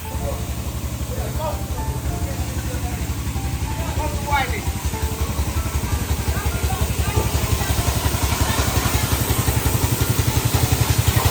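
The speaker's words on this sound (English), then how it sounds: "Pressure washer machine, people, you see it? Yeah, up and running." A pressure washer machine at a car wash runs with a steady, loud mechanical drone and rhythmic pulsing clatter throughout, close by, while people talk over it.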